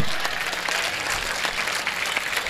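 An audience claps for Joshi Tai at a thanksgiving session of an educational guidance camp, a dense, even round of applause from a crowd that holds steady throughout.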